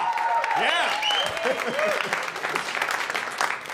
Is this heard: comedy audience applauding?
yes